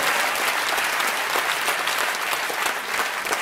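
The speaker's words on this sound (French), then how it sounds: "Voilà, on l'applaudit, elle vient me rejoindre" A live audience at a comedy show by Les Frères Taloche applauds the winning contestant with dense, sustained clapping that fills the room evenly at full volume, with no voices breaking through.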